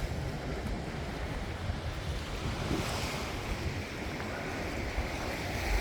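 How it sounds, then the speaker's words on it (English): Waves wash steadily onto a Baltic Sea beach at Ventspils, Latvia, a continuous broadband surf roar with wind buffeting the microphone and no voices. "hello to the Baltic Sea for the second time in my life"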